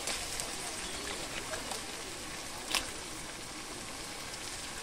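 Washed mutton pieces go into hot oil with fried ginger and garlic in a kadai, setting off a continuous soft sizzle with one brief sharp crackle midway.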